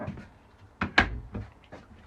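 A kitchen cupboard under the sink in a 2022 Knaus Sudwind caravan opens with a few close, light wooden knocks and clunks, one sharper thump in the middle, no talking.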